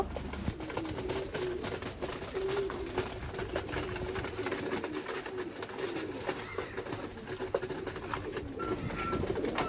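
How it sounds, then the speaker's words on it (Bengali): Pigeons coo softly on a hot rooftop while pecking at scattered feed, their faint low calls repeating over light background noise with no talking. "এখানে হচ্ছে কবুতরের খাবার দিয়ে দিলাম কবুতরগুলি খাচ্ছে"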